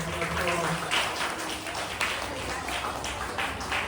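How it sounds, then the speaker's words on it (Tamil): A church congregation at a Christmas celebration at Risen Christ Church, Kalpet claps hands in praise, steady and moderately loud. A voice is briefly heard at the start. "நல்ல ஜோரா கைத்தட்டி ஆண்டவரை ஸ்தோத்திரம்"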